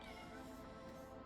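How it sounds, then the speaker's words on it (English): A cat meowing indoors, one drawn-out, steady, faint meow that holds its pitch for just over a second. "I gotta feed the weirdy cat."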